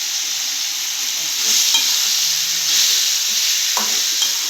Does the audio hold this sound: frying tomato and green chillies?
yes